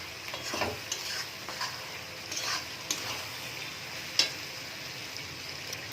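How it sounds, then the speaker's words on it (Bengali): Chili powder sizzles in hot oil in a pan while being stirred during chili chicken cooking, a steady soft frying hiss broken by light scraping stir strokes and one sharp click, close by with no talking. "তেলের উপর লঙ্কা গুঁড়োটা দিলে কালারটা খুব ভালো আসে, তাই আমি তেলের উপরেই লঙ্কা গুঁড়োটা দিলাম।"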